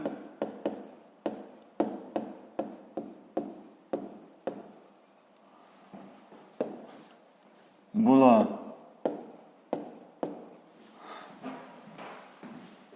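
Handwriting of a digit during a fifth-grade maths exercise: a quick run of crisp pen taps and strokes up close, a brief louder voiced burst midway, then more scattered writing strokes.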